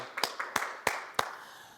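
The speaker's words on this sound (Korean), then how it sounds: "박수로 영광 돌리겠습니다" Four sharp, evenly spaced claps in a church worship service, each one crisp and close, then quiet.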